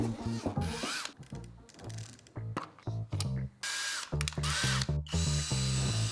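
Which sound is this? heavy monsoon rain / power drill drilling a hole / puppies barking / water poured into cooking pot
power drill drilling a hole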